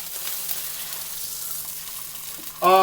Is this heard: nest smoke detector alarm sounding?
no